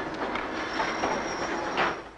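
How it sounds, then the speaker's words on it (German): Track renewal train of two assembly units rolling over old rails as it dismantles and loads them, a steady broadband rumble with metallic wheel squeal and faint clatter, close and continuous, no voices. "Der erste Zugteil fährt auf dem alten Gleis, das er hinter sich abträgt und verlädt."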